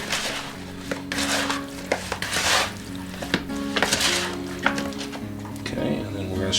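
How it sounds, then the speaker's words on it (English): Chicken wings turned over and mixed by hand to coat them in a sweet, spicy, savory seasoning make wet, squelching rustles and occasional light knocks against the bowl, with a voice talking over them. "we're just going to get in here, turn them over, mix it up, try and get them coated as much as possible"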